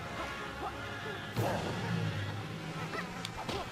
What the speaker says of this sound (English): these bees are going to be a problem